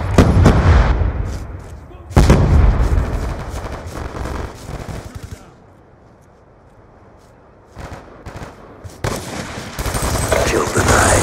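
Rapid automatic gunfire from the video game Black Ops 2 on PS3, loud bursts that stop for a quiet stretch and then resume, with in-game sounds throughout.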